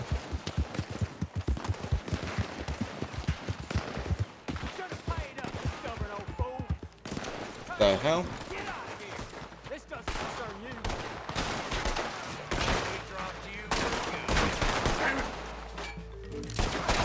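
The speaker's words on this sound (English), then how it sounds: "I did hear shots." Gunshots in the video game Red Dead Redemption 2, a rapid sharp volley of repeated shots at first, then scattered bursts mixed with game sounds and a voice speaking, loud and close.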